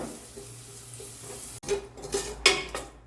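Onion and coriander powder roasting in a pan over a low flame, with a spoon scraping and clinking against the metal in a few brisk strokes over a faint sizzle.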